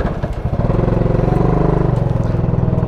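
Classic motorcycle engine warming up, a close, loud, rapid chugging idle with even pulses that speeds up slightly after a ragged start and holds steady, no voices.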